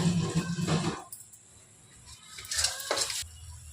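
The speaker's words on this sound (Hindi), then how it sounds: "मेरा मसाला जो है वो भुन चुका है, देखो तेल बिल्कुल सेपरेट हो चुका है।" Masala spices for rajma fry in oil in a pan as a utensil stirs and scrapes; a soft sizzle comes in two bursts of stirring separated by a quieter pause, heard up close.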